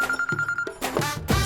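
A cartoon telephone rings in quick repeated electronic trills, loud and close, with short pauses between bursts.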